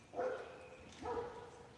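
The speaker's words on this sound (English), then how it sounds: "that's the neighbor's dog" A neighbor's dog barks twice in the distance outdoors on a wet, rainy-season morning, each bark short and muffled against a soft background hiss.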